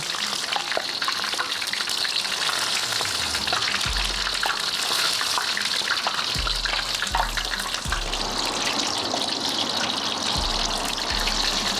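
Soft shell crab deep-frying in hot oil, a steady dense crackling sizzle that runs unbroken and close throughout, with a few low thumps along the way.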